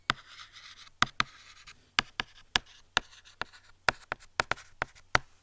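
A pen scratches quickly across paper at close range, a string of short strokes and taps in an uneven rhythm, with no voice over it.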